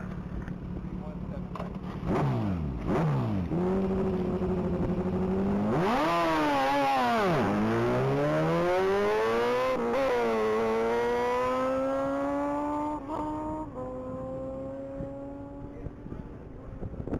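A 2008 Kawasaki ZX14 motorcycle makes a top-speed run at a one-mile speed event, its engine whine climbing through several gear changes and then fading as it pulls away, with wind noise and an announcer talking over it.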